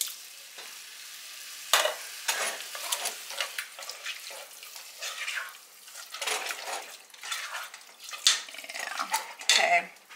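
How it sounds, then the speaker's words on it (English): Diced tomatoes go into a pan and get stirred, heard as uneven bursts of utensil scraping and clinking against the pan over a soft sizzle, close and intermittent. "I'm gonna go ahead and add in some diced tomatoes."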